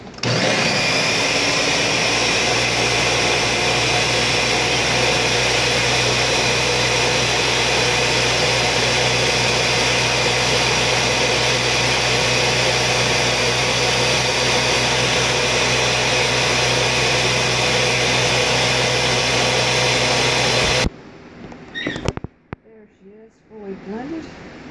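A countertop blender whirs at full power on a raspberry and matcha green tea smoothie, a loud, steady motor roar that runs for about twenty seconds before cutting off abruptly, followed by a few quieter clatters.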